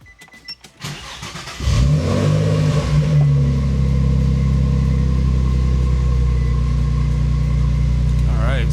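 A Nissan G35's engine cranks after a few clicks, catches and settles into a loud, steady idle with a slight rev at the start, while a person talks briefly early on.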